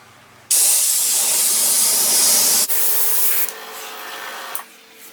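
Airbrush sprays paint in a loud, close hiss that starts abruptly, runs for about two seconds, cuts off, then resumes in softer bursts before stopping.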